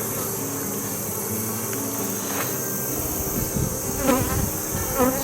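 Honey bees buzz around an open beehive in an August apiary, a steady dense hum near the microphone, with a few louder passes from individual bees close by and no talking.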